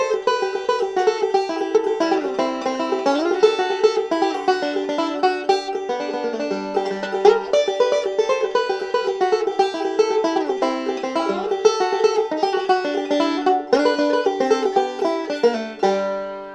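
Bluegrass banjo plays a rhythmic roll phrase, bright, quick plucked notes in a steady rolling pattern, close and clear with no talk over it.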